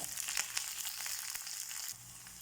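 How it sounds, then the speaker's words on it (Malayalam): Small shallots and curry leaves hit hot oil with mustard seeds, producing a quiet crackling sizzle dotted with light pops that eases off near the end, with nobody speaking. "കടുക് കൂട്ടുമ്പോൾ ചെറുതായി അരിഞ്ഞ ചെറിയ ഉള്ളി ഇടുക വേപ്പില ഇടുക"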